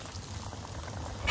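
Burger patties sizzle in very hot oil in a pan at an outdoor camping cookout, a steady close crackling bubbling hiss with no talk, brightening slightly at the end.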